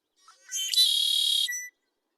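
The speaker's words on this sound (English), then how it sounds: "So here's the male song." A male bird sings one clear, whistled phrase with a buzzy onset, close and loud, about a second long, with no other sounds around it.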